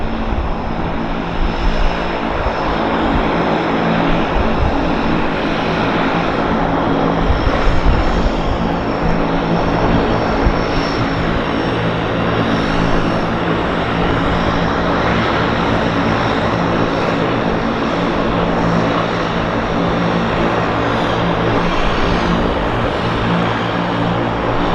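A floatplane at Vancouver Harbour Airport drones with a steady, loud propeller-engine hum that holds close and constant throughout, with no pauses.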